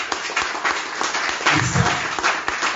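Church congregation at a Sunday worship service clapping and applauding to acclaim the Lord, a dense steady wash of many hands close around, swelling slightly toward the end with a low murmur of voices underneath.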